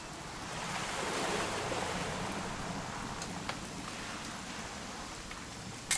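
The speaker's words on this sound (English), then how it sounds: "It's gonna rain the whole weekend," Steady rain in What Remains of Edith Finch falls as a continuous soft hiss with gusty wind, holding even throughout and ending in a brief bump.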